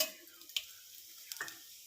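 Tempering seeds dropped into hot oil for tomato rasam, a faint crackling sizzle with a couple of short sharp pops, quiet and close.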